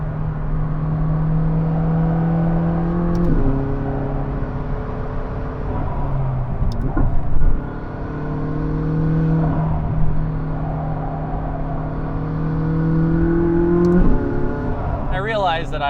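A McLaren 600LT engine revs hard under acceleration, climbing through the gears with sharp rising pitch sweeps and brief drops at each shift, loud and close from inside the car, with some talk over it.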